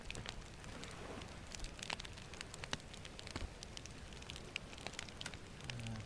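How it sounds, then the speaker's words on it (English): Light rain falls in the voxel survival video game Dead Reach, a faint, steady patter with scattered tiny crackling drops and no talking. "What we got? Rain now again?"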